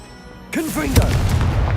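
In Hogwarts Legacy, the Confringo fire spell is cast and lands as a sudden booming blast with a bright swooping whoosh and crackling burst, followed by a rumbling tail. The game plays alone, with no talk.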